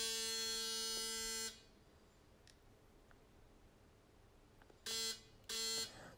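A Panasonic ES8103S Arc3 men's electric shaver buzzes with a steady hum, switches off, then runs again in two brief bursts near the end.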